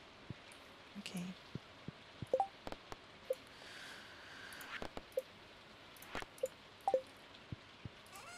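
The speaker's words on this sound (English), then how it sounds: "It's raining." Scattered drips and taps of rain at irregular intervals, quiet and close, over a soft steady background hiss.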